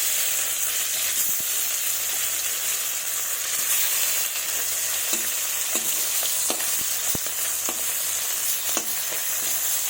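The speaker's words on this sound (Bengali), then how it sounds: "দিয়ে লাল লাল করে ভেজে নেব।" Fish tails sizzle and fry steadily in hot mustard oil in a pan, a continuous dense crackle and hiss with occasional sharper pops, close and alone with no talking.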